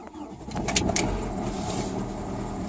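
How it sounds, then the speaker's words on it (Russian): Diesel car engine idling in winter just after a first-try cold start, with a suspected misfire and a faulty exhaust temperature sensor; a steady low rumble throughout, with a few brief higher clicks near the start. "Так, машина завелась с первой попытки."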